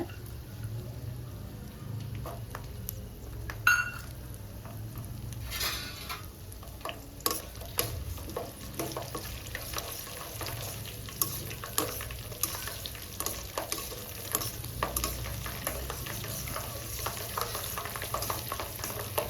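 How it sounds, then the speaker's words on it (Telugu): Oil sizzling softly in a pan for gongura pickle, with intermittent scraping and stirring clinks, quiet and steady, with no one talking. "బాగా ఫ్రై చేసుకోవాలండి"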